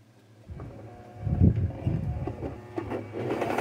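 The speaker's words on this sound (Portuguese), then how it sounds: "Vou costurar aqui, a abertura ficou aqui." A sewing machine stitching a fabric bunny napkin holder, a low mechanical whirring hum that starts after a brief pause and runs on with small clicks and variations, close by.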